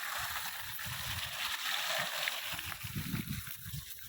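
Water from a four-inch pipe on a solar-powered pump gushes and splashes steadily, a dense continuous rush with sloshing, while someone speaks over it.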